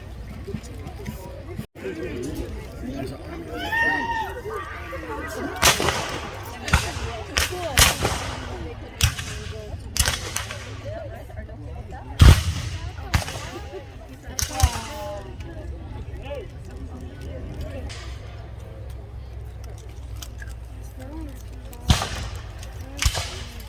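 Cannon and gunfire at a Civil War reenactment, a string of sharp, loud outdoor cracks and booms scattered irregularly, with people talking and chattering throughout between blasts.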